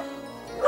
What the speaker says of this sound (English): He's probably barking because of that blaster.